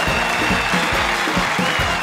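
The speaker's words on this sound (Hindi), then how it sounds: "प्लीज तालियों के साथ स्वागत कीजिए" Loud studio audience applause on a Hindi comedy show, a dense, even roar of clapping with rhythmic low thumps of music beating underneath.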